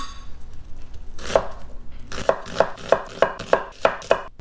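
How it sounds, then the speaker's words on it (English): A knife roughly chopping two large onions on a board, starting with a single cut and then a steady run of about seven sharp, evenly spaced chops close by. "just a rough chop."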